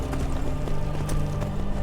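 Horse hooves clip-clop in the Skyrim video game, a quick run of rhythmic thuds over a low rumble, close and fairly loud with no talking.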